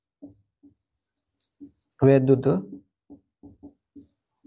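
Chalk or marker strokes on a classroom board during a Class 12 physics lesson, short scratchy taps repeating before and after a brief loud burst of someone speaking.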